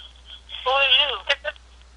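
Telephone keypad tones as callers press star 6 on a conference call, a short burst of dialing tones mixed with a voice over a steady line hum.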